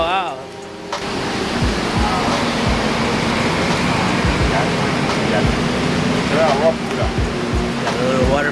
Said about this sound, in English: Got a little water fountain there.